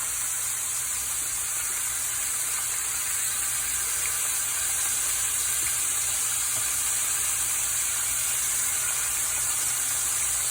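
Cubed steaks searing in a frying pan give a steady, dense hiss that holds at an even level from start to finish, close and unbroken, with no voices over it.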